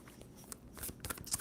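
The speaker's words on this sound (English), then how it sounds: "2 more shuffles for Virgo." A deck of tarot cards is shuffled in a short, soft riffle of crisp card flutters, close and quiet with no talk.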